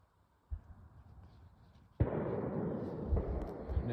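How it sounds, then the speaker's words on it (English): Distant fireworks popping during a night outing at an old homesite in the woods, heard as a steady crackling rumble that swells abruptly halfway through and carries on with scattered louder bursts. "Now I hear fireworks over that way."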